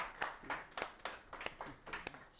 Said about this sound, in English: Please, a round of applause for Mrs.